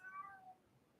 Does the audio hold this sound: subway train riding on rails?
no